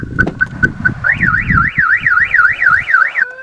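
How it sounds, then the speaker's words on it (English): A Mahindra Pik Up alarm system being armed gives a run of short, loud electronic chirps, then a rapid warbling tone that ends abruptly, close and with no voices. "Arm alarm system on a Mahindra by personalized pin code."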